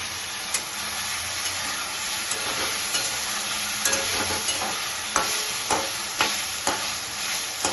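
Taro stolon curry is stir-fried with spices in a pan, with a steady close sizzle and frequent scraping stirs throughout.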